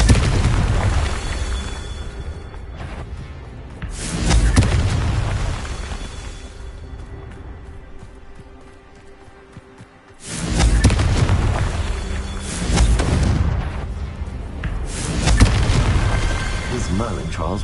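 Confringo fire-blast spell cast in Hogwarts Legacy, producing heavy booming explosions in two long loud surges with rumbling low end, separated by a quieter stretch, while a voice speaks over the action.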